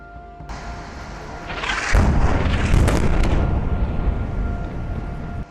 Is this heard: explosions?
yes